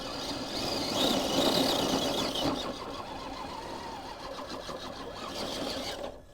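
A Traxxas RC truck drives through wet sand, its small electric motor whining steadily and loudly for about six seconds with gritty churning underneath, then cutting off at the end.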